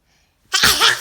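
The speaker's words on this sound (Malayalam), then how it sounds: "ഇനി തുമ്മണ" One person sneezes once, loud and close, in a single sharp burst after a brief silence.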